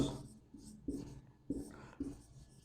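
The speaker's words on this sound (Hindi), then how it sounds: "इसको हम लोग लिख देते हैं हिंदी में" A pen writes during a physics lesson, giving four soft, close scratchy strokes in a slow, uneven rhythm, alone and without talk.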